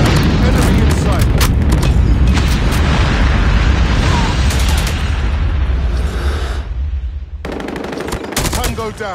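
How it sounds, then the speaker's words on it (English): Dense, loud barrage of gunfire and booming blasts in a Call of Duty Nuketown hardpoint match as a nuke is launched, with continuous rapid shots and heavy explosions rolling over game voice callouts. "Friendly nuke has been launched."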